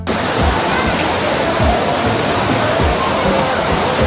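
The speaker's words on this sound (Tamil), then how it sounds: "அருவியை பாருங்கள் மேலேருந்து எப்படி தண்ணி கொட்டது பாருங்கள்" Loud, continuous roar of a waterfall at Courtallam, pouring down, dense and steady throughout with a low churning rumble underneath.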